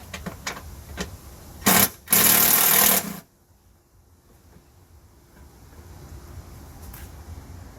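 A 10mm bolt is driven out of the front bumper of a damaged 2002-2006 Nissan Altima with a power tool: a short whir, then a louder sustained burst of about a second, followed by quiet shop ambience.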